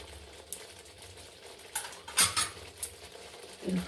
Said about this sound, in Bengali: বেগুনগুলা একটা একটা করে দিয়ে দিচ্ছি।